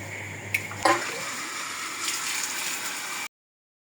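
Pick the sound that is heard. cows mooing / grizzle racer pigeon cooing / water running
water running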